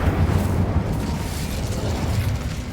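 A fiery Incendio spell blast in Hogwarts Legacy roars as a loud, close, sustained rumble of flame and bursting fire with no talk over it.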